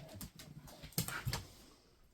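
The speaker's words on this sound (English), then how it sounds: "She's a border collie red heeler cross." A border collie red heeler cross dog, a retired farm cow dog about nine or ten years old, snorts and whimpers close by in a few short broken bursts with no talking.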